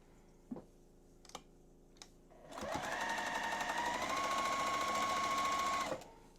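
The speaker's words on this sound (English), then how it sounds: "Line up our corners and sew them together." A sewing machine stitching quilt fabric pieces: a few light clicks, then a steady close whirring run of rapid stitching for about three seconds before it stops.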